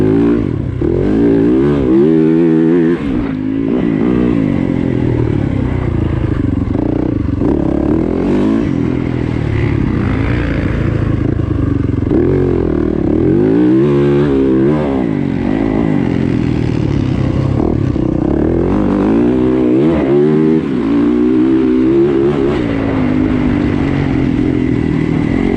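A de-restricted Yamaha WR450F dirt bike engine revs and accelerates continuously, a loud, close, throaty roar rising and falling through gears with wind buffeting, under a rider's commentary.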